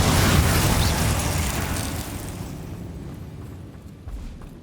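A Confringo blasting spell explodes in Hogwarts Legacy with a loud, broad boom that rolls off into a fading rumble over several seconds, then a small secondary pop near the end.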